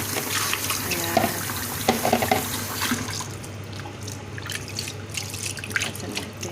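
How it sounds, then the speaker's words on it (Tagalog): A kitchen faucet runs hard into a sink as frozen calamari is rinsed under it. The rush of water is loud and close, then eases toward drips and a lighter trickle. "huhugasan natin ngayon ang ating calamares"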